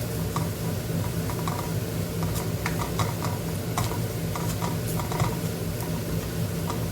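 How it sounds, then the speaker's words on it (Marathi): Spices such as turmeric and coriander powder roast in hot oil for a home-cooked Konkani dal baati, giving a steady dense sizzle with scattered small crackles and ticks throughout. "मसाले छान भाजून घेऊया तेलामध्ये"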